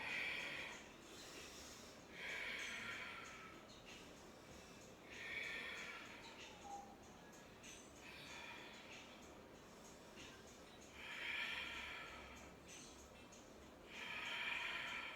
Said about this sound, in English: Make sure you get all the air out of your exhalation